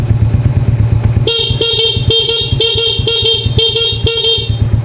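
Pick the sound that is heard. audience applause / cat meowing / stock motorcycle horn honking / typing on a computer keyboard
stock motorcycle horn honking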